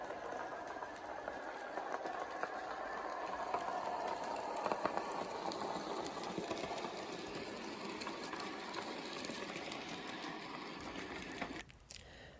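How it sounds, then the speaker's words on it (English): An N gauge model goods train runs on a British model railway layout, giving a faint, steady mechanical whir and rail hum with light ticking that fades out near the end. "Only the passing goods train disturbs the stillness."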